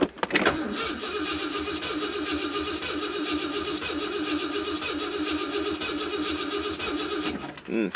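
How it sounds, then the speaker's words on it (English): A 1967 Ford Thunderbird engine cranks steadily for several seconds, the starter whirring rhythmically as the motor struggles and fails to catch, loud and close, then stops. "Does not sound happy. Definitely some work to be done."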